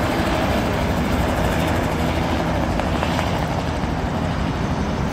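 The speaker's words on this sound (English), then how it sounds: "Helicopter just taking off in front of us." A helicopter takes off nearby in New York City, roaring as a dense continuous whir of rotor and engine noise that fills the scene, steady and loud, with no talking.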